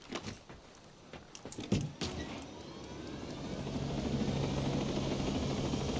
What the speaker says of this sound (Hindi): हेलीकॉप्टर के जरिए ही हम लोग अपने नेक्स्ट मिशन की तरफ चलते हैं।